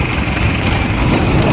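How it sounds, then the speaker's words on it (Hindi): Engine of a motorcycle with a broken clutch, started in gear and running while ridden, only the front brake working; a steady, loud, continuous engine drone with no talk over it. "इसे ले जा रहा हूँ बिना क्लच की बाइक है, देख लो।"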